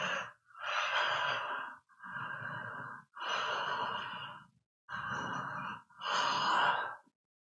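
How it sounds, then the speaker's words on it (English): Five deep, slow breaths taken with the mouth stretched wide open during a facial relaxation exercise, each a loud, airy, sigh-like exhale separated by short pauses, close and without speech. "opening your mouth up really wide and breathing deeply in it"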